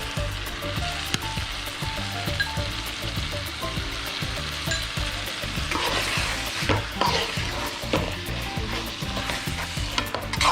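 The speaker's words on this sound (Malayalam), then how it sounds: "ചേർത്ത് നല്ലപോലെ ഇളക്കി യോജിപ്പിക്കും" Chicken capsicum masala being stirred in a pan, a steady sizzle and fry under repeated scraping strokes of the spoon, close and continuous with no talk.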